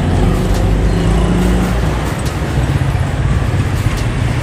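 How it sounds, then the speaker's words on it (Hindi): Dense, heavy road traffic in Lahore, a loud continuous wash of car and bus engines with rumbling low drone, nearby vehicles passing and occasional horn-like blips, no talk. "लाहौर में वैसे भी जो है वो ट्रैफिक का रश बहुत ज़्यादा होता है"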